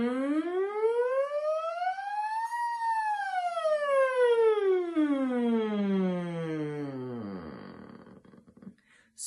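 A single human voice does a siren exercise, sliding smoothly up to a high pitch and then gliding back down. The clear, sustained tone imitates a siren and is heard alone.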